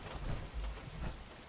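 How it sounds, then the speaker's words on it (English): Rain and thunder from a thunderstorm in the video game Fallout 76, a faint steady hiss of rainfall with low rolling rumbles swelling twice, quiet and distant. "I don't like your storm, but I get why you would want storm. You would want rain at least."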